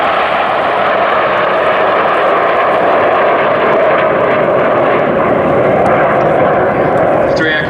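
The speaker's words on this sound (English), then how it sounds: "The 7 jets arc in front of us, they're setting up for the 3-4 split." Seven RAF Red Arrows jets arc past in display formation, a loud, steady broadband jet roar sustained throughout, close and overwhelming, with a voice talking over it.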